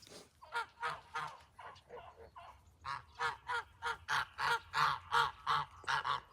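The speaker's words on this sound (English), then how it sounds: "now we're standing here with alpacas and geese that are very angry that we're not giving them all of our bread immediately." Agitated geese kept on a farm alongside alpacas honk repeatedly in a steady, loud series of harsh calls, close by, with several birds overlapping and no talk.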